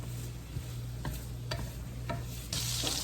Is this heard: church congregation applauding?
no